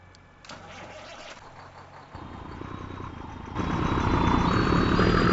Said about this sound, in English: Look at that beautimous truck.